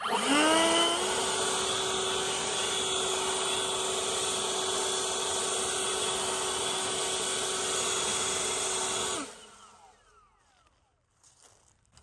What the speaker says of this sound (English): this is the most powerful leaf blower I've ever used in my life